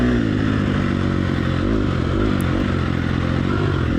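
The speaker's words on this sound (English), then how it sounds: "when you have the throttle pinned and you're in the wrong gear, and then all of a sudden it stops bogging" A dirt bike engine held at pinned throttle in the wrong gear, bogging with a loud, steady, low rumbling drone and rattling clatter, close and continuous throughout.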